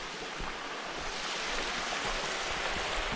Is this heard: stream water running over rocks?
yes